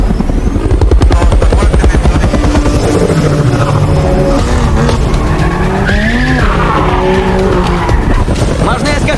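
Film car-chase scene with a BMW tailing a car: loud, continuous engine roar and tire skidding with squealing sweeps, dense mixed action sound throughout, with voices at times.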